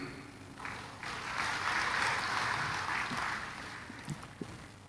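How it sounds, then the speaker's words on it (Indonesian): An audience at an Indonesian public address breaks into applause that swells, holds, then tapers, heard as a moderately distant wash of clapping. "Jangan terlalu cepat tepuk tangan."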